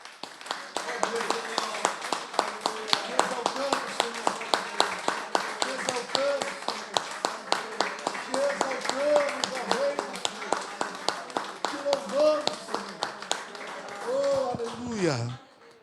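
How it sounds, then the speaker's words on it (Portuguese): Congregation at a church service clapping in praise, a steady rhythmic beat of many hands throughout, with music or singing going on underneath. "vamos aplaudir o Senhor bem forte, em louvor a Ele"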